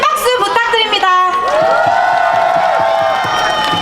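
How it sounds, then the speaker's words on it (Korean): Applause and cheering from a crowd at a Daegu–Gyeongbuk university students' political rally, with whoops and shouts rising near and loud, then settling into steady clapping that carries through the clip. "큰 박수 부탁드립니다"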